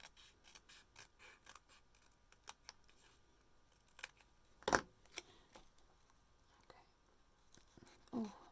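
Quiet scissor snips trimming a craft kit piece, a few short sharp cuts spread through a hushed room with soft handling rustles and faint low speech.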